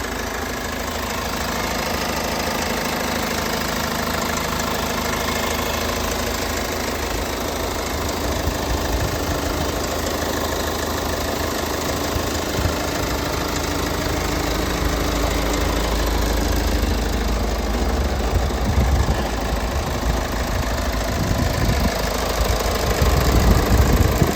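A Hyundai Santa Fe 4WD idles steadily and loudly, its engine holding a constant, slightly knocking diesel-like rumble up close for the whole stretch, with no talking over it.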